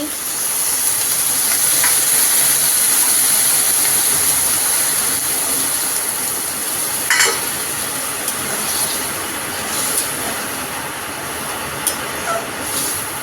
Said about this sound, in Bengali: আলু পটল মশলা দিয়ে কষানো হয়ে গেছে, এবার আমরা জল দিয়ে দিচ্ছি।